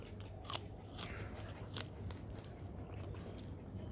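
Close crunching bites into fresh raw corn picked from a backyard garden, a few crisp snaps over steady low background noise with no talk.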